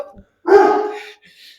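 A single loud, sharp bark from a nearby dog, with a faint yip following after a short pause.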